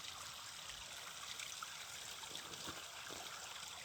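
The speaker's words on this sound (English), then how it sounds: "spring I wanted to show you. It's pristine, and it has clean and fresh water." A clean mountain spring flows in a steady, faint trickle outdoors, a soft continuous wash of running water with no voices.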